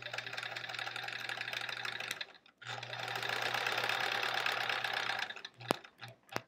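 A 1970s Kenmore sewing machine stitches fabric in two steady runs with a short pause between them, its motor humming close and clear, followed by a few sharp clicks.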